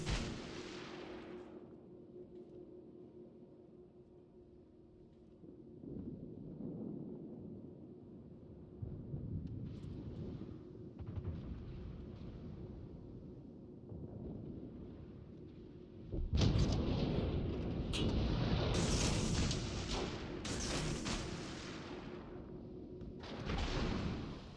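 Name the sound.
naval gunfire in World of Warships video game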